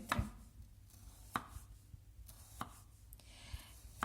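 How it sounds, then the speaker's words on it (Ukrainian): Knife slicing raw potato wedges into large slices on a board, four sharp, evenly spaced chops about a second apart, close and clear with no talking. "Із часточок ми будемо нарізати скибочки великі."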